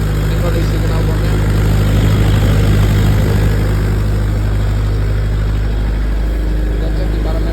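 A 40 kVA diesel generator set runs under about 90% load near 52 amps, a loud, steady droning engine hum with a strong low rumble at the exhaust, someone talking over it.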